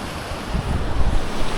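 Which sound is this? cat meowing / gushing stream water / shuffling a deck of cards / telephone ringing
gushing stream water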